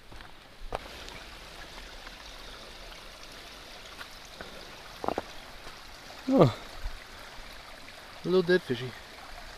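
A mountain brook on Bigelow Mountain in Maine flows as a steady, soft wash of water noise throughout, with a person speaking briefly over it and a few small knocks.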